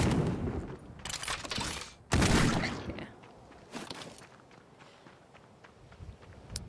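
Gunshots in the gritty dystopian action RPG Death Trash: a few sharp, loud bursts spaced a second or so apart over scuffling footstep-like noise, with quieter stretches between.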